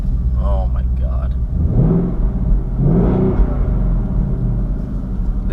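A 2020 Ford Mustang GT with a 5.0 V8 rumbles from inside the cabin as it pulls away and accelerates, deep engine drone rising in pitch, with a person talking over it early on.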